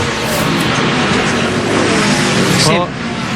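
The No. 5 stock car of Ron Fellows in a NASCAR Nationwide race at the Montreal circuit drives in a loud, steady engine roar, with a race commentator talking over it the whole time.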